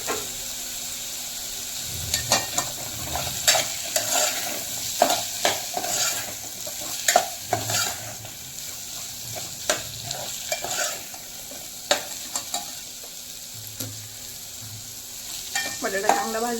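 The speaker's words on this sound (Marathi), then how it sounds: "बटाटा चांगला भाजून घेऊ" Potato with salt roasts in a pan, a steady close sizzle broken by repeated sharp scraping stirs of a spoon against the pan at irregular intervals.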